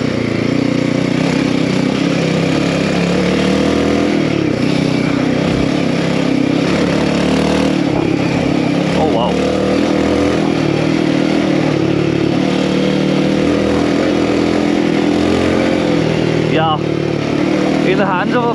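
Royal Enfield Himalayan 450 Rally motorcycle with performance upgrades riding a dirt trail, a loud, continuous engine drone that rises and falls with throttle, recorded up close, with someone talking over it.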